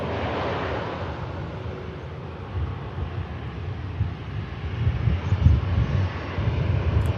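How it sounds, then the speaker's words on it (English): Airliner landing with clamshell thrust reversers deployed at Manchester Airport, a broad distant roar that swells and rumbles louder toward the end, heard alone over faint wind noise. "These are clamshell reverses on this aircraft again."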